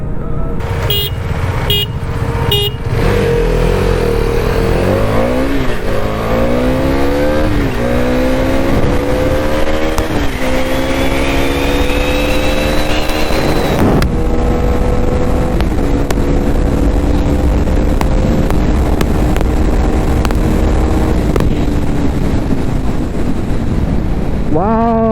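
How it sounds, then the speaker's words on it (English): Loud engines of an old and a new KTM Duke 390 rev and accelerate through rising gear changes in a side-by-side drag race, pitch climbing repeatedly, then a steady high drone as the bikes race past, fading near the end. "do a side-by-side drag race on the both motorcycles"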